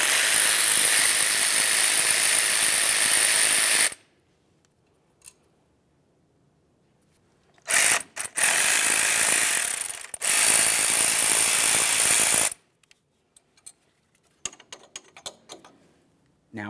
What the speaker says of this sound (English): Use a 10 millimeter, remove both of the bolts.